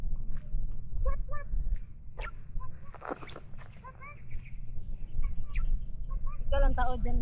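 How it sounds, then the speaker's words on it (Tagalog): Scattered bird chirps and short calls ring out on the Mt. Batulao trail in Batangas, coming in brief bursts over rustling footsteps and low wind noise. "Ang ibon."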